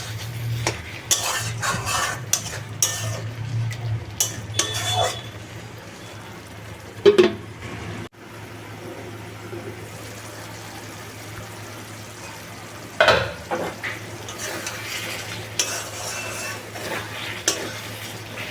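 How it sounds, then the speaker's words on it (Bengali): Chicken meat fries in a pan during slow covered cooking, with a soft sizzle under occasional stirring scrapes and clanks of utensil and lid, mostly quiet with a few louder bursts. "এবার শুধু ঢাকা চাপা দিয়ে দিয়ে ভালো করে কষিয়ে নিতে হবে মাংসটা সেদ্ধ হয়ে যাওয়া অবধি"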